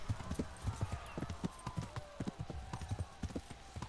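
Fast, rhythmic hoofbeats of a galloping horse in the video game Kingdom Come: Deliverance pound steadily and close by, with faint background noise.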